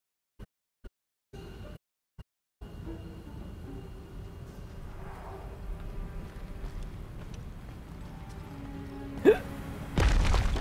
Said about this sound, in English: Fucking hiccups.